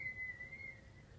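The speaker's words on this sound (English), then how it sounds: "There's that whistle again." A faint, thin whistling tone comes from outside, holding a single steady pitch with slight wavering over a quiet background.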